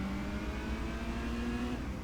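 A Dodge Neon ACR race car engine in Gran Turismo 2 on Special Stage Route 5, a steady, loud game-engine drone with a slowly rising whine held at high revs.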